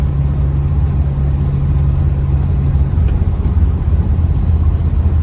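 A 1974 Dodge Dart engine pulling through its gear shifts on a drive: a loud, steady low engine drone close by, with a pitch change about midway as a shift occurs.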